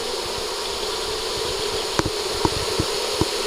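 A honeybee swarm crowds into a Warré hive, giving a dense, steady, loud buzzing hum throughout, with a few faint taps and knocks near the end.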